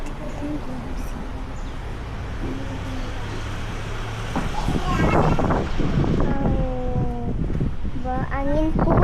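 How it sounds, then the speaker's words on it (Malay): Strong wind buffets the microphone outdoors in Kuala Kangsar, Perak, a steady broadband roar that grows louder halfway through, with voices talking over it. "Berangin kuat kan?"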